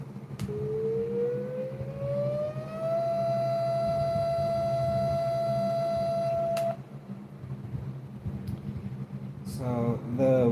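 A civil defense siren's high tone, probably played from a device, winds up to a single steady high pitch that holds for a few seconds before cutting off, over a low background hum, with a voice afterward.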